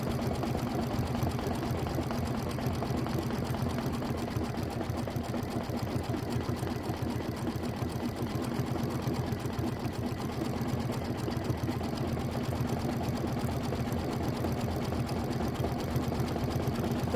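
A sewing machine stitches a Kimberbell mini quilt block in a steady, continuous motor hum with a fast, even needle rhythm, close and unbroken, with no talking.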